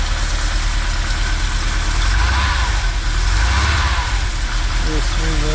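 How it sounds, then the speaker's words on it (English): Steady idle of the Homepun vehicle's engine running just after a cold start, a close, even mechanical drone with hiss, with brief talk over it. "Real smooth motor."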